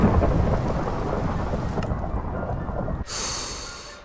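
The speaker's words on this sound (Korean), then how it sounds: "천둥 번개 미친 거 아니야?" Thunder rumbles loudly over heavy rain in a Minecraft storm, a broad deep roll that fades before a sudden bright crack and hiss at the end.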